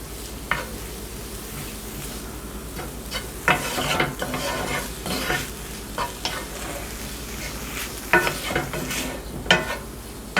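Greens stirred and sautéed in a pan until wilted, steady sizzling frying with intermittent scraping stirs and clinks of a utensil, close and moderately loud, no talking.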